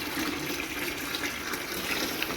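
Tap water running into a jerrycan and tubs during the morning water supply, a continuous broadband gushing rush, steady and close with no voices.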